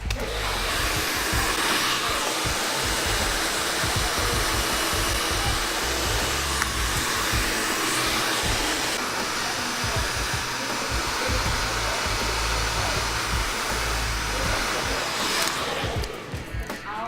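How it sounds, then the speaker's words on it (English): A hair dryer blow-drying hair with a brush roars loudly and continuously at close range, a steady airy whoosh that cuts off near the end. "now we've finished blow drying"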